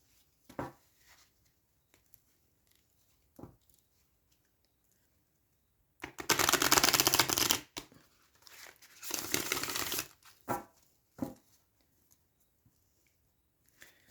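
Bob Ross oracle card deck with matte cards being shuffled in two bursts of brisk riffling and flapping, each a couple of seconds long, with faint handling clicks and rustles in between.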